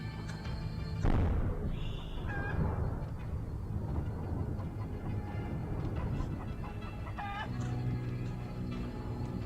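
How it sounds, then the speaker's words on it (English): Roosters crow in Durango, Mexico, against dense, noisy outdoor ambience. Harmonic crowing calls rise out of the rumbling background at a few points, some faint and one clearer near the end. "The roosters."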